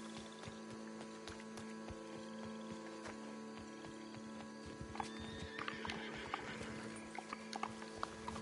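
A horse in Red Dead Redemption 2 clopping its hooves and whinnying over a low steady hum, the hoofbeats growing busier and more scattered toward the end.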